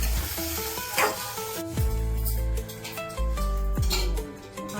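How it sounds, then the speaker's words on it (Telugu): Cut tomatoes stirred into hot onions in a pan for a tomato chutney, loud close sizzling with scraping stirs recurring throughout and no talking. "ఎల్లిపాయలు వేడెక్కాక కట్ చేసి పెట్టుకున్న టమాటాలు కూడా వేసుకొని"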